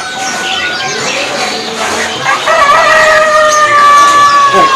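Zebra doves (perkutut) call inside a bird-selling kiosk, with soft repeated coos and thin chirps from several caged birds overlapping at moderate distance against steady background murmur.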